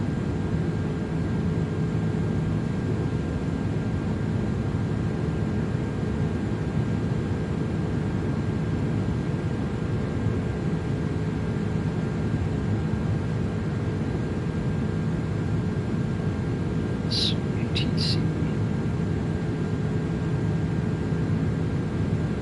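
Spruce Goose flying boat cruising on autopilot at 10,000 feet in a flight simulator, a steady, unbroken broadband engine and airflow drone that holds constant throughout, with a couple of brief faint clicks near the end.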